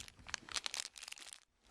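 A plastic Ziploc bag crinkles and crackles as it is opened, giving a close, quiet burst of irregular rustles that fades near the end.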